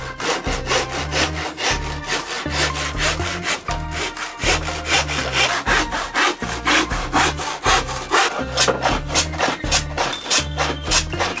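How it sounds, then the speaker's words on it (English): A hand cross-cut saw cuts through plywood in steady, rhythmic back-and-forth strokes, loud and close, with a rasping scrape on each pass. "Always a cross-cut saw with plywood."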